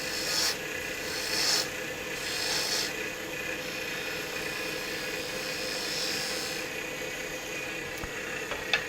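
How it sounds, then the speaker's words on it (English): Spindle gouge cutting a spinning maple burl on a wood lathe, a steady close rasping scrape with a few brief brighter bursts of cutting over a constant motor hum. "And then switch back to the bigger spindle gouge."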